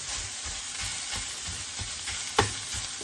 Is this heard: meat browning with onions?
yes